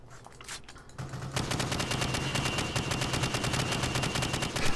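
In Call of Duty: Modern Warfare, a few scattered shots at targets lead into a long, rapid, loud burst of automatic fire that continues steadily to the end.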